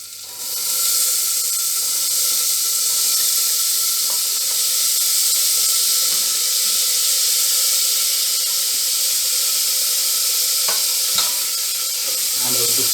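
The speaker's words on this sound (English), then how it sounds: "now I am going to add the vegetables." Vegetables sizzle and fry in a hot pan with asafoetida for a quinoa, lentil and brown rice pulao, a steady close hiss running throughout with faint stirring scrapes.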